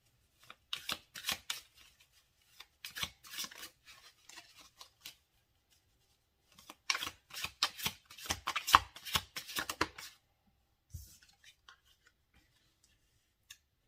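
Tarot cards are shuffled by hand in two bursts of soft, quick riffling and flicking, with scattered taps between them. The sound is close but faint, with quiet gaps.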